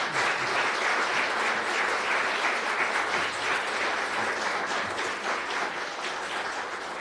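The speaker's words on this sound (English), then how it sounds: "Let's give our candidates a round of applause." Audience applause for town council candidates at a public election forum, a dense, sustained round of clapping from a seated crowd, loud and steady for several seconds before easing slightly.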